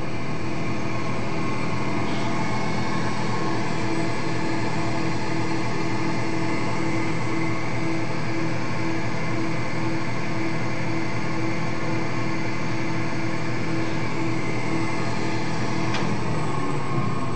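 A drive shaft balancing machine runs with a steady, loud mechanical hum and whir, continuous throughout with faint clicks and no talking.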